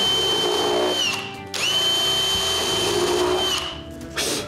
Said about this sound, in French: Je commence par percer et mettre des vis pour retenir le fond